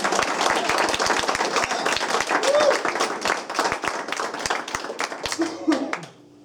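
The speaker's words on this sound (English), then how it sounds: "Please give him a big round of applause." Audience applause at a small live music venue after a band's song, dense steady clapping from many hands that carries on for about six seconds before fading out abruptly.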